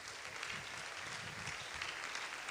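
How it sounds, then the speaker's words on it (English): Faint, distant clapping from a church congregation welcoming Pastor Adeboye and his wife from Nigeria, a soft continuous patter with no voices over it. "Let's give them a big hand clap as they come in."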